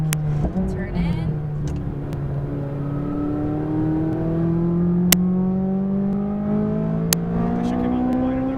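McLaren 570S engine pulls at full throttle on a racetrack, a smooth rising drone climbing steadily in pitch over several seconds, heard from inside the car with a couple of sharp clicks and a voice coaching alongside.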